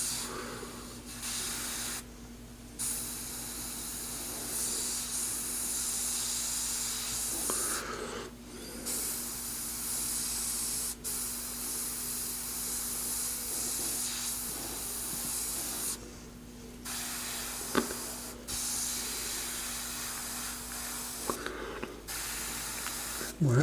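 An airbrush sprays paint while a Joker portrait is being painted, giving a steady close hiss that stops for brief gaps and then starts again several times over a faint background hum.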